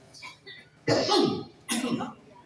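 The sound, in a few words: coughing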